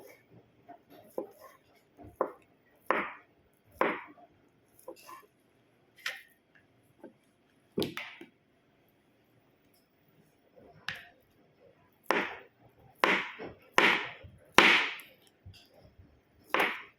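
A knife chops food on a board while making spring rolls, sharp irregular cuts coming singly and in quick clusters, some crisp and loud, with quiet gaps between.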